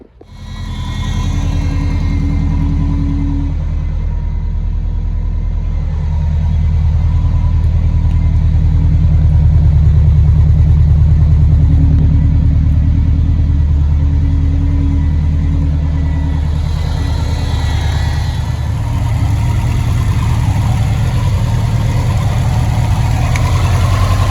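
A built Subaru STI engine with a dump tube idles with a deep, steady rumble for a long stretch, loud and close, its note shifting slightly midway.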